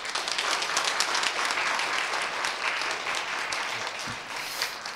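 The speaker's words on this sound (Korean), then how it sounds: "여러분 인사할 때 우리 박수로 우리 축복 격려해 주시기 바랍니다." Church congregation applauds during a Sunday worship service to bless and encourage a departing pastor, steady broadband clapping from many hands filling the room for the full stretch with no speech over it.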